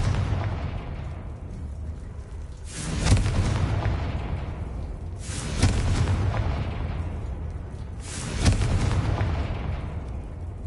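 Explosions from the Confringo spell in a video game: three heavy booms about two and a half seconds apart, each swelling and fading into a loud, rumbling background.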